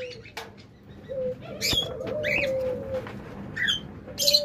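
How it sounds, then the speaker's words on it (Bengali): A pair of caged lovebirds chirps in short, sharp, bright bursts, several calls scattered unevenly over a soft background hum, fairly close and moderately loud. "চমৎকার এক জোড়া লাভবার্ড, ইনশাল্লাহ খুব তাড়াতাড়ি ডিম দিয়ে দিবে"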